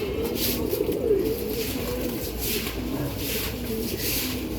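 Domestic pigeons cooing steadily in a loft, low repeated rolling coos layered over one another with faint background noise, no talking.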